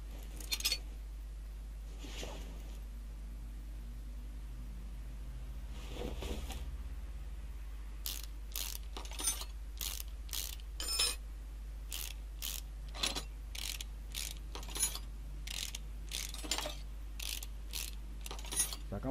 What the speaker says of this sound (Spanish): Sacamos estos 8 tornillos de la tapa de balancines